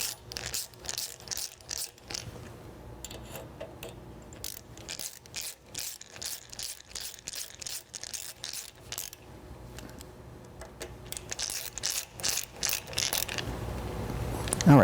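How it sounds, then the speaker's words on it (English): A latch gets screwed onto the front of a Laguna Revo 18/36 wood lathe with a hand tool, giving bursts of quick ratcheting clicks in an irregular rhythm, close and fairly quiet. "next on the front of the lathe is the other half of the latch. We'll go through and screw that into place."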